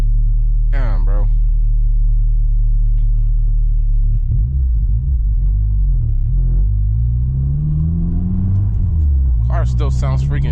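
Tuned 600hp Honda Civic Si running about 16 PSI of boost, a loud deep droning exhaust rumble that rises and falls through revs, with brief bursts of nearby talk at the start and end.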